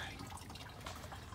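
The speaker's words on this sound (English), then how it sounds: "And now we're just gonna let her drain" Coolant drains from the radiator reservoir of a 2007 Dodge Cummins 6.7 diesel pickup, a steady close trickle of running liquid with faint dripping and no talk over it.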